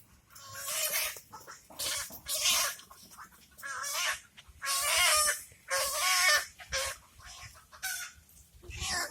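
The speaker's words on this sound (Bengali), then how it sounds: "এই তো আমাদের ফেলেছি একটা মুরগিকে।" A hen caught in a trap clucks and squawks in agitated bursts, loud and close, with short pauses between the frantic calls and no talk over them.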